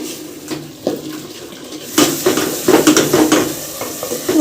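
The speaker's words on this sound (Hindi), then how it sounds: "तो माशाल्लाह जी ये देखिए आलू मटर मैंने अच्छी तरह भून लिया।" Potatoes and peas frying in a pan at home, with clattering of a utensil against the pan and a soft sizzle, steady scraping and stirring sounds up close.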